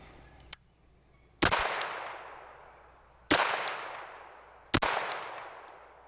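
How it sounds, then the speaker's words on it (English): A firearm without a brace or stock, fired from the hip, lets off three loud gunshots at uneven intervals, each followed by a long decaying outdoor echo, with a faint click before the first. "You can also shoot down here from the hip."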